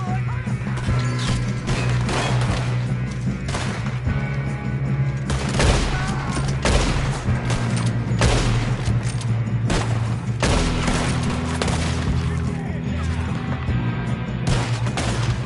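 A chaotic shootout in Red Dead Redemption 2, with rapid, dense volleys of gunshots and sharp cracks going on continuously, loud and close, with faint game voices in the background.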